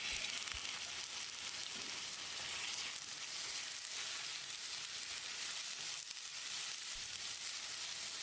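Chopped onion and boiled raw banana sauté together in a pan for a green moong dal curry, a continuous close hissing sizzle with a few soft low bumps, no talking.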